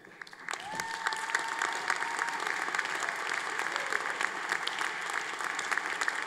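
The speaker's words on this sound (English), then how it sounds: "Let us share another round of applause for this great accomplishment." An audience at a 2022 university graduation commencement ceremony applauds, the clapping rising quickly and continuing as a dense, steady wash of many hands, with a faint sustained tone briefly heard early on.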